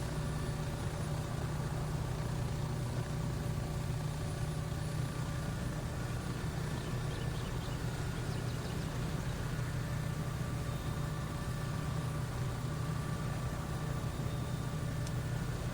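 Bell 407 helicopter engine idling while cooling down in X-Plane 12, a constant low droning hum with a steady whine, unchanging throughout with no talk.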